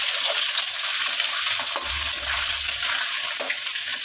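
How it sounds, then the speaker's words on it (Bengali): Potatoes frying in a pan give a steady, close sizzle and crackle that carries on without a break, with no voices over it. "দেখো, এখনও আলুটা ভাজা হচ্ছে।"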